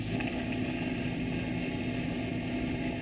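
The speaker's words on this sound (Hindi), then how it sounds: "आसमान में हेलीकॉप्टर चक्कर लगा रहे हैं" Helicopters circling over a flooded area produce a steady, dense engine and rotor drone that holds constant without pauses, loud and continuous with no voices.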